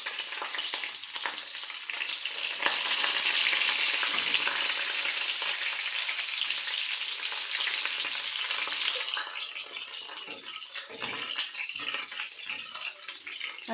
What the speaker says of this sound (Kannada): ಹಸಿಮೆಣಸಿನ್ಕಾಯಿ ಒಂದು ಸ್ವಲ್ಪ ಹುರಿಬೇಕ್ರಿ